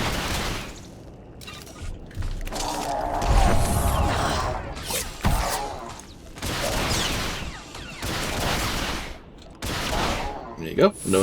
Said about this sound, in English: What do you think you're doing, blasting my droids?